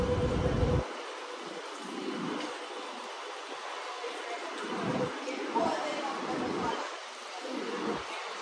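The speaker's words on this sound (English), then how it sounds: "we do have a tram approaching" A Sydney Light Rail tram rumbles closer along George Street with a rising, rolling roar of wheels on rails, accompanied by faint background chatter.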